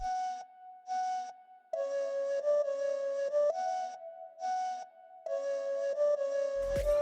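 A reverb-washed, EQ'd flute sample slowed to half time plays drawn-out tones with brief gaps between phrases, ending in a burst of low, noisy rumble.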